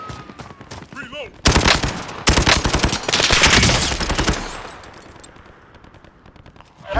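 Rapid automatic gunfire from a first-person shooter video game bursts loudly in several sustained volleys, then fades into quieter game ambience.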